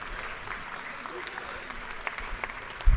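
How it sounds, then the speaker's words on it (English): Applause from the chamber floor during a legislative session, a moderate, fairly distant wash of clapping with faint murmuring voices and a soft thump near the end. "Please stand and let's give them a big round of applause."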